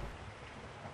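Rain falling at the start of the rainy season in a village setting, a brief, soft, even hiss of steady rainfall with a low rumble beneath, no voices.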